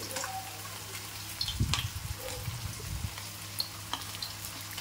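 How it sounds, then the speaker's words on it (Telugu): Veg Manchurian balls frying in oil for a street-food dish, a soft continuous sizzle with a brief burst of bubbling as more go in, then quieter crackling. "ఈ మంచూరియన్ బాల్స్ వేయగానే కదపొద్దండి. ఒక 2 నిమిషాలు వేగిన తర్వాత కదపండి."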